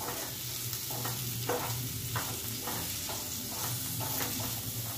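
A bitter gourd stir-fry with jaggery hisses steadily in a pan, a dense, even sizzle marked by regular scraping strokes as it is mixed.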